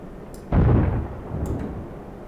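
Shell hits striking a ship's hull at the waterline during a naval battle in the game Stormworks, heard as a sudden heavy boom at half a second that rumbles on and fades slowly, with faint metallic ticks above.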